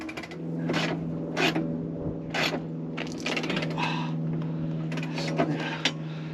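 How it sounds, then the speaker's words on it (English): A hand ratchet clicks while it tightens bolts on a campervan spare wheel carrier, giving a close series of short metallic ratcheting bursts over a steady background hum. "Here's my ratchet."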